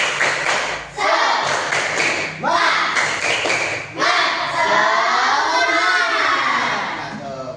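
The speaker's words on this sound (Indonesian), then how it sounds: "Tepuk semangat." Classroom of children doing a rhythmic spirit clap together, quick bursts of claps and taps in short patterns with voices chanting along, close and loud.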